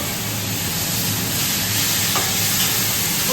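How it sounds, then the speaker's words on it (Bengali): Marinated chicken with onions sizzles and spits in hot oil, a dense continuous frying hiss with soft scraping from stirring, close and steady throughout. "এবার ম্যারিনেট করা চিকেনটাকে দিয়ে দিতে, দিয়ে দিয়ে কিন্তু নাড়াতে হবে"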